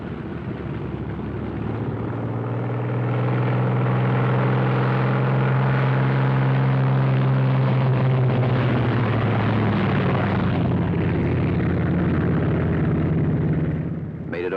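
A Thunderbolt aircraft taxis out with a loud, steady piston-engine drone that stays close and continuous throughout, swelling slightly toward the middle.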